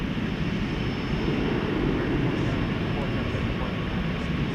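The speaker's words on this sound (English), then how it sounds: "we've got the UPS 767" A UPS Boeing 767 jet rumbles at DFW Airport at night, a continuous loud low roar of engines with broadband noise, steady throughout.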